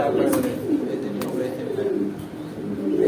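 Serazi pigeons at a bird sale in Gazipur, Dhaka, give low, rolling coos close by, with people talking over them.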